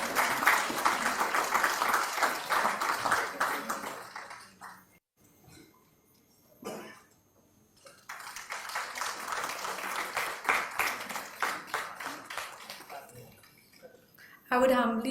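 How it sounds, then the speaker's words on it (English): Applause for the chairpersons at a medical education session on patient safety, dense clapping that swells, breaks off into a near pause around the middle, then resumes strongly before stopping and briefly flaring again at the end. "Let's show some gratitude with a big round of applause for them."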